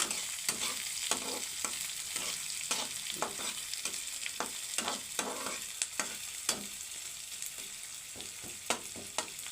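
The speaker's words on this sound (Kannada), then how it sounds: "ಇದು ಸ್ವಲ್ಪ ಗೋಲ್ಡನ್ ಕಲರ್ ಬರೋವರೆಗೂ ಫ್ರೈ ಆಗಬೇಕು ಫ್ರೆಂಡ್ಸ್" Paneer fries in a pan until golden, giving a constant close sizzle with a steady rhythm of spoon scrapes and stirring taps on top, and no one speaking.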